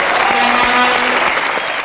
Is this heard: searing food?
no